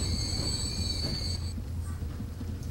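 A train in the video game Transport Fever 2 rumbles steadily in the low range, with a faint high whine that cuts off partway through, and no talk over it.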